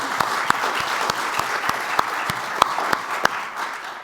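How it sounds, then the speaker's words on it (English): An audience at a conversation event applauds in a steady, moderate patter of claps, with a few sharper individual claps standing out. The applause lasts about four seconds and fades slightly at the end. "round of applause"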